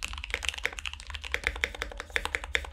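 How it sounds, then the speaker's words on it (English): Fast typing on a custom mechanical keyboard, close and moderately quiet, a rapid irregular stream of crisp keystroke clacks with no talking. "And this is how a custom keyboard sounds."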